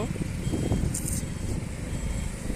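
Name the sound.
road traffic, passing car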